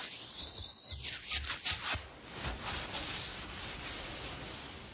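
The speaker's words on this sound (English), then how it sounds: "So we got the top sanded down." Steady rubbing scrape of sandpaper working over the top of a Harbor Freight camp hatchet head, continuous and close, with a rhythmic back-and-forth texture and no talking.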